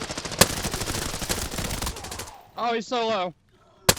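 Rapid full-auto pistol fire in Arena Breakout Infinite, a dense burst of sharp close shots for about two seconds, followed by a brief spoken remark.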